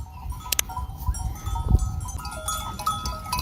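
Sheep bleat at close range over a low rumble of farmyard noise, with a faint clank like a bell in the background.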